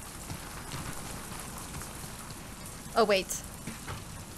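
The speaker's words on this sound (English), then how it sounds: "Get out of the rain." Steady rain hiss falls in The Last of Us Part II, a continuous wash of drops running under the whole stretch while a voice speaks briefly near the end.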